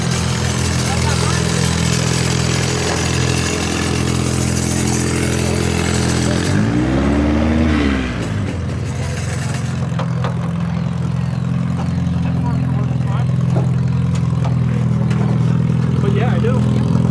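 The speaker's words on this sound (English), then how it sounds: "Another compact car coming in here." A compact car's engine at a 2023 Putnam County demolition derby revs and drones loudly with crowd noise around it, swelling to a rising roar midway before settling into a steady, busy din.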